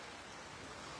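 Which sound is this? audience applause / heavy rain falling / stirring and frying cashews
heavy rain falling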